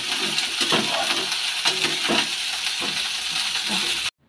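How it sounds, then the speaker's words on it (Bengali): Meat with spices frying in a loose wok gives a steady loud sizzle, with repeated knocking clatters as the loose wok rocks and the meat is stirred, and the sound cuts off abruptly at the end. "এখন আবার অনেকক্ষণ ভাজবো এটাকে, মশলাটা মাংসটাকে"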